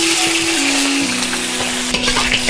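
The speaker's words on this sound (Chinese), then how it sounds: "排骨给它炒到金黄" Pork ribs stir-fry in hot oil in a wok, a loud, close, continuous sizzle with bursts of spattering crackle under a steady tonal hum.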